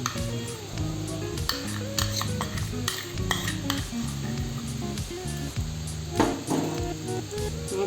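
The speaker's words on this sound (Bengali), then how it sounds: "কড়াইয়ের মধ্যে তেল গরম হয়ে গেছে, এখন আমি মশলাগুলো দিয়ে দিচ্ছি।" Whole spices fried in hot oil in a kadai for a Bengali flat-bean filling: a continuous near sizzle with metal stirring clinks, over faint tonal background sound.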